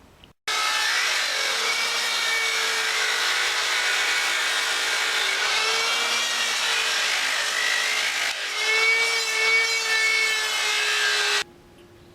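Plastic motorcycle fairing pieces from an FZR restoration are being cut away with a steady, rasping sawing stroke that runs for about eleven seconds, close up and continuous with no speech, before stopping abruptly.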